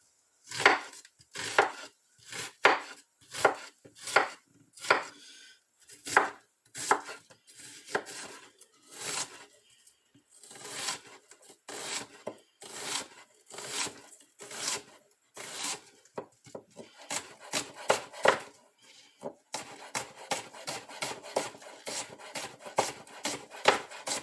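Onions are chopped with a knife on a wooden board in a long series of crisp, close knocks, spaced steadily at first and then quickening into rapid, denser chopping.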